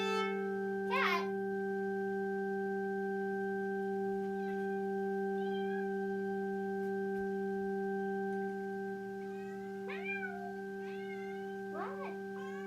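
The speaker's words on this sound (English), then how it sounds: "Cat." A cat meows a few times, short rising chirpy calls near the start and again toward the end, over a steady sustained drone tone during scale practice.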